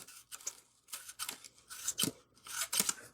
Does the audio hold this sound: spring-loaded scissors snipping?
yes